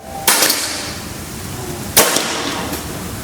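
Two sharp, loud shots from an FX Crown V7 PCP air rifle firing slugs, each a crisp crack with a brief ringing tail, spaced under two seconds apart.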